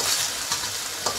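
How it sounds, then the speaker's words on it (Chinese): Potato pieces stir-fry in a hot pan with spring onion, a constant loud sizzle broken by a couple of quick spatula scrapes within a second or so. "然后就放这个 potato 下去炒"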